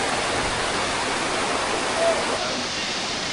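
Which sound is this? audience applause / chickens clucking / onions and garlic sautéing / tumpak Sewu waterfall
tumpak Sewu waterfall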